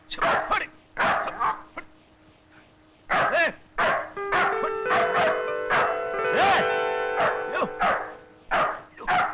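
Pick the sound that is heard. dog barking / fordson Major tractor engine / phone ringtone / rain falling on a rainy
dog barking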